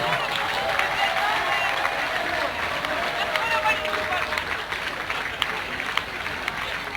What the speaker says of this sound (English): Give them a warm applause, please, people!